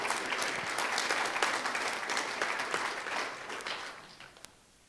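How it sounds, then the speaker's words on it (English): An audience at a Sunrise Movement rally in Asheville claps in a dense, sustained burst of applause that gradually fades out, ending with a last clap. "give yourselves a round of applause one more time just for being here"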